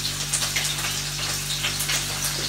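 A little water poured into minced meat for pounded cutlets in a home kitchen, a gentle hissing splash over a steady low hum, close and fairly quiet, with no talking.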